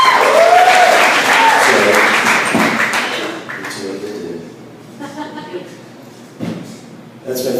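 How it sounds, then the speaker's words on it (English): Comedy club crowd at The Geek Easy in Orlando applauding: loud clapping at first that fades within a few seconds, leaving someone speaking over scattered claps and murmurs. "make some noise for Rhino too, will ya"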